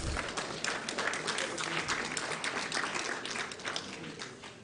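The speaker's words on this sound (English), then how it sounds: "Another round of applause, please." A sustained round of applause from an audience at a mediation committee report presentation on the Bawku conflict, many hands clapping in a dense, even wash that eases slightly toward the end.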